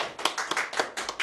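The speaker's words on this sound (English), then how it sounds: "Round of applause, people." A small group claps in brief, uneven applause, a quick run of close hand claps lasting about a second.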